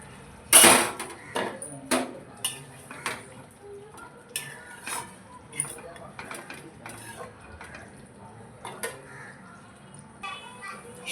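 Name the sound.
fried fish being added to a curry in a pan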